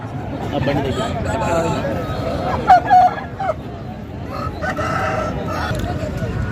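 Roosters crow at a country chicken market in Nallapadu. A couple of loud, close crows stand out over a continuous babble of crowd chatter and scattered clucking.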